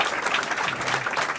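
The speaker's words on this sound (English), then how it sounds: "Let's give him a round of applause." A conference audience applauds a startup speaker, steady dense clapping throughout the short stretch, fairly loud and close with no talk over it.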